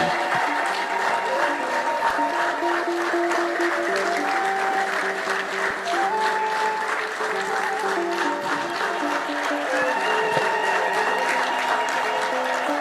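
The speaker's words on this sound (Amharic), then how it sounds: "ተነስታችሁ አጨብጭቡ። ተነሱና አጨብጭቡ።" A congregation in a cathedral of an Ethiopian church bursts into sustained, dense applause, steady and loud throughout with a few faint voices mixed into the crowd clapping.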